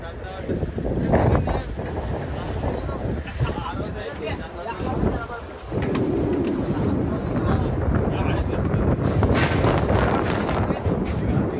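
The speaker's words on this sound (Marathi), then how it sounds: "चला भूषणची बोट आली बघा." A fishing boat pulls up at sea on the last day of a kingfish and mackerel fishing trip. Its low engine rumble is nearby and continuous, heavily buffeted by gusting wind on the microphone, with voices at times.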